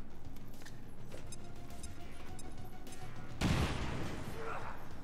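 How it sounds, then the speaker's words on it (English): A thrown grenade blows up in XCOM Long War of the Chosen during a brutal haven attack, one loud burst hitting midway and its crackling debris tailing off, above a steady bed of game ambience and background chatter. "Throwing grenade."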